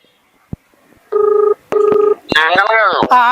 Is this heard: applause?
no